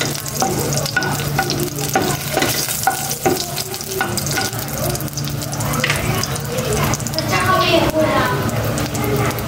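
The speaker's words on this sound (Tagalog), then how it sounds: "Mag-isa na ako ng bawang." Garlic sautéing in hot cooking oil in a pan, a loud continuous sizzle and crackle with stirring scrapes throughout, close and dense.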